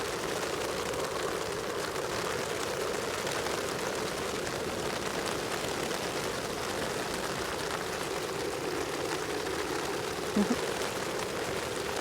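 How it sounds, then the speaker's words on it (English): Steady heavy rain drums on a tent and tarp at a campsite, a dense continuous patter that stays even throughout, close and enveloping with no speech. "you're listening to the rain"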